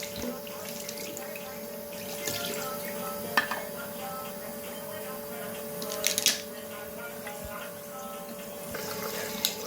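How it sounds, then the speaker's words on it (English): Very hot tap water runs steadily into a sink with splashes and a few clinks as a makeup brush is rinsed under the stream. "So I'm rinsing it now. The water is actually very hot"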